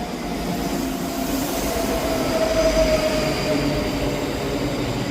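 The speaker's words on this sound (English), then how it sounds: "arriving in over here, we have a Scotrail service from Helmsborough Central to Edinburgh Waverley." ScotRail class 334 electric train pulls into Edinburgh Haymarket station, a close, steady rolling rumble with a faint wheel squeal and no talk.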